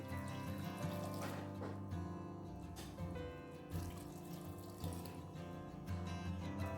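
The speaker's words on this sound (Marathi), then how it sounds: "तो अब इसमें डालते हैं 2 कप पानी" Two cups of water poured into a pot of green pea curry, a continuous splashing trickle with small surges, faint and close against a low background hum.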